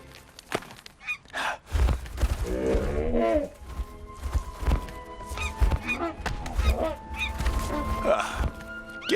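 A giant goose honks in an animated cartoon, loud harmonic calls standing out over a busy soundtrack of thumps and effects.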